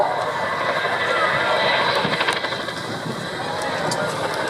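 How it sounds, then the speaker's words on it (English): A Chinook tandem-rotor helicopter roars during a role demo at the Duxford summer airshow, a loud sustained engine and rotor rumble with faint blade chop, while an announcer talks over it. "raw power and the versatility of the Chinook is all down to its iconic tandem row design"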